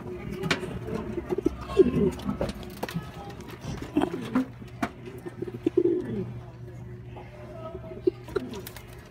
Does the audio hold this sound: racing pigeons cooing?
yes